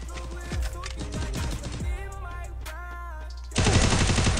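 Video game gunfire in a multiplayer shooter, with rapid bursts of automatic fire standing out loudly in the first two seconds and a heavier, denser burst near the end, mixed with other game sounds.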